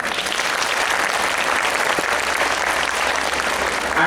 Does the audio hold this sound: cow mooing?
no